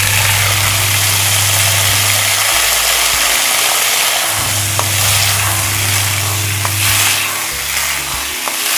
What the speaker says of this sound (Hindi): तो बस इसको डाल देंगे तेल में।